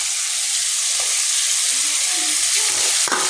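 Spice masala sizzling in a pan with coriander leaves and a whole green-red chili added, a continuous loud frying hiss with a few faint clinks of stirring.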